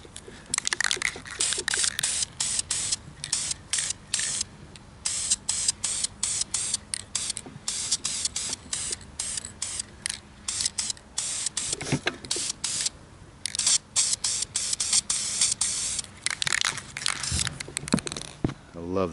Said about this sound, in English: we'll give her probably 2 coats of this Krylon